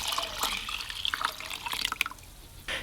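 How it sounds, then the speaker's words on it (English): Purple sweet potato water is poured over rinsed long grain sticky rice, making a close, continuous splashing trickle with scattered drips that ends with a short gush. "And then pour this over the rinsed long grain sticky rice"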